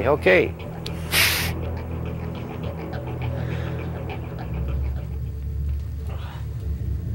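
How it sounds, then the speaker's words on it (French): A low, steady engine rumble heard from inside a shipping container drones continuously, with a few brief breathy noises and a sharp burst of hiss early on. "Son seul contact avec le monde extérieur, c'est le ronronnement du moteur."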